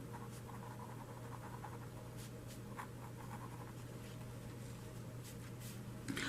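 A pen scratches on paper in short strokes while vector geometry working is written down, faint over a steady low electrical hum.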